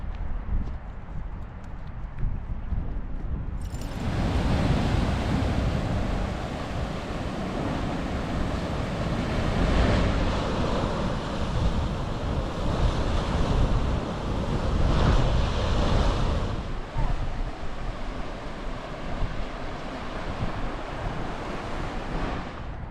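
Surf breaks steadily on a beach along the 80 Mile coast of Western Australia, with gusting wind and heavy microphone buffeting throughout. The roar holds loud and continuous after a quieter opening few seconds.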